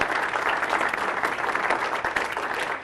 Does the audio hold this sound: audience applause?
yes